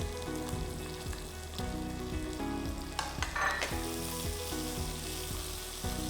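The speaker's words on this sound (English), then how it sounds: "I'll add the sliced onion." Sliced onion hits hot oil in a pan and sizzles steadily, a dense, close frying hiss with light crackles and occasional stirring scrapes throughout.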